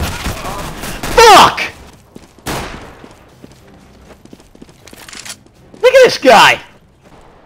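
Gunfire in Counter-Strike: Global Offensive: loud, close bursts of rapid shots in several separate volleys, with someone shouting excitedly between them.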